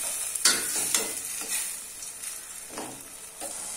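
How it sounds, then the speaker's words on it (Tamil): Tomatoes cook in oil for chicken do pyaza, giving a close sizzle broken by several sharp stirring scrapes and clatters, loudest near the start and easing toward a softer frying hiss. "அந்த தக்காளியோட வாசனை வர வரைக்கும் நம்ம குக் பண்ணிட்டு ஆயில் எப்ப பிரிஞ்சு வருதோ அது வரைக்கும் நம்ம குக்"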